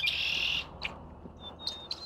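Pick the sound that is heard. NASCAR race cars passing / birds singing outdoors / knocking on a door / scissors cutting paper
birds singing outdoors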